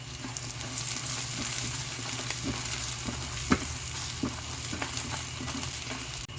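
Garlic and onion sautéing in a pan for pork asado, a close, steady sizzle with scattered clicks and scrapes from stirring, no voices.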